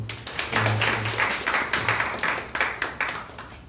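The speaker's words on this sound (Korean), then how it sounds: "박수 한번 해주세요" Congregation applauding during a Sunday worship service in a church, a sustained burst of many hands clapping throughout, fairly near and steady, with a low hum underneath and no one speaking.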